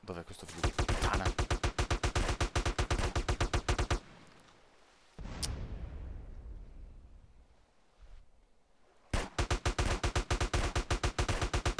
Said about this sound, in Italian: Gli sparo col deserticolo e non perde vita di niente.